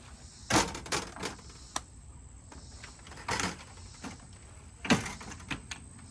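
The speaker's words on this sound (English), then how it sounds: "You also have a screen door here too. It's got a bug cover." The screen door with a bug cover on a Thor Quantum M-29RQ motorhome is worked open and shut, giving several close, light clacks and rattling latch knocks in scattered bursts over quiet background.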